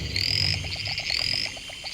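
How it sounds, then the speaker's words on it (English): Tree frogs call in a rainforest, close and loud: a rapid pulsing croak train runs through, topped by two high drawn-out whistling notes and a dense background chorus. "Tree frogs, birds and cicadas"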